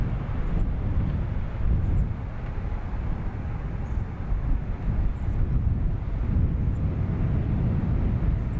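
A Ryanair airliner is lined up on the runway at Dublin Airport, heard as a steady, distant jet engine rumble mixed with wind noise. A faint high chirp repeats at regular intervals.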